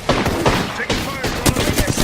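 Rapid automatic gunfire in a train-battle mode of a shooter video game, dense repeated shots crackling steadily for about two seconds, loud and close.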